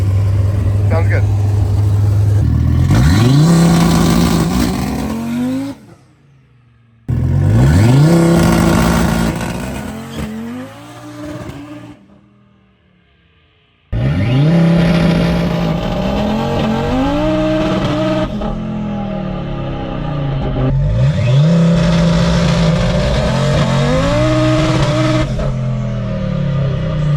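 TKX street car on drag runs, engine revving hard and climbing through gears with shift breaks, loud and close, repeated across several launches separated by short gaps.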